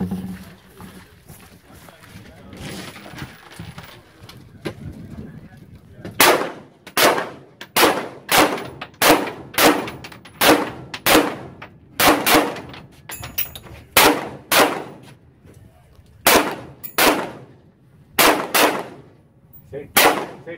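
Rifle shots fired in rapid succession on a 3-gun competition stage, about fifteen loud, sharp cracks in a steady rhythm, close by, following a stretch of quieter shuffling and talk.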